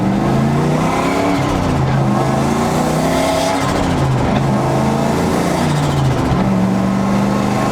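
A turbocharged 2004 Ford Mustang Mach 1 engine accelerates up close with the exhaust cutout closed, revving steadily through rising pitch with a throaty exhaust drone and a brief shift dip.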